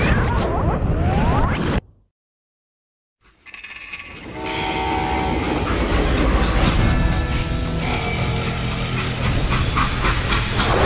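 A freight train in a Call of Juarez Gunslinger cutscene rumbles loudly, with a horn or whistle sounding over a steady mechanical roar that cuts out for a moment of near silence before resuming strongly and continuing to the end.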